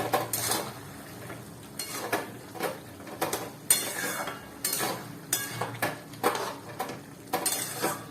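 Prawns being stirred in a cooking pan, with clattering scrapes of a utensil against the metal coming in irregular bursts over a faint sizzle, close and moderately loud, with no speech.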